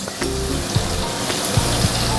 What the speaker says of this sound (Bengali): এবার আমি এর মধ্যে দিয়ে দেবো এই যে মশলাটা করে রেখেছি